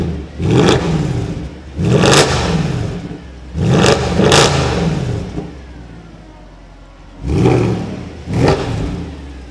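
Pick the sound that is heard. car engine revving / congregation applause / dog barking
car engine revving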